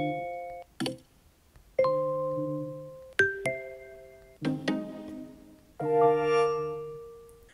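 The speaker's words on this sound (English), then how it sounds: "iOS 17 does include a bunch of new texting notification tones" A series of distinct iPhone iOS 17 text notification tones, each a short bright melodic chime-like phrase separated by brief pauses, played cleanly with no talking.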